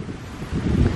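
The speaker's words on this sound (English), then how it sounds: "especially on a windy day like this" Gusty wind buffeting the microphone at a lakeside public boat dock in a small Florida marina, a rough low roar that strengthens partway through.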